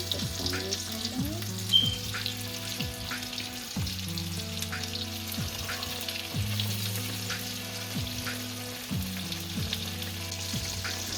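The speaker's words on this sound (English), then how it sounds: "I'm going to leave the chicken to fry for 5 minutes before turning it over" Chicken sizzles and crackles steadily in hot oil, with a constant bubbling hiss and a low background hum running throughout.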